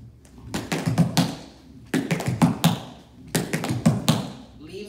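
Tap shoes beat out traveling cramp rolls on a dance studio floor, in three quick clustered bursts of rapid taps separated by short pauses, close and crisp.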